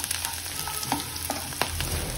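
Almonds, coconut and raisins being stirred in a frying pan, with soft scraping and light clicks over a gentle steady sizzle.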